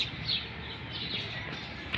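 Morning birds call and chirp faintly in a rural village, a few thin tweets over a soft continuous background hum, with no voices.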